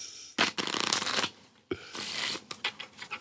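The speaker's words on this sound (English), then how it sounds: "Just give him a good, firm shuffling." A deck of playing cards is shuffled firmly up close during a magic performance on a talk show, two long riffling bursts of rapid flutter followed by a few quicker snaps and squares of the deck, with no speech.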